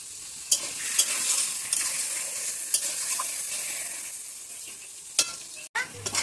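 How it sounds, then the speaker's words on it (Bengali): Potatoes fry in a pan for a prawn and jackfruit yogurt dish, a steady close hiss of oil broken by occasional scraping stirs, with no talking. "আলুটা লাল লাল করে এবার ভেজে নিই"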